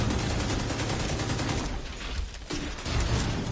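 Division 2 video game combat rages with rapid spammed grenade blasts and gunfire, a dense, continuous barrage of crackling bursts and mechanical clatter that briefly thins midway before building again.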